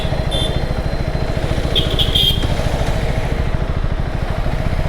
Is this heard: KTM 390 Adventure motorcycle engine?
yes